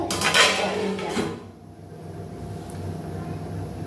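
Metal cooking pot being stirred and then covered with its lid, heard as a couple of loud clanks and scrapes at the start, followed by quieter background hum.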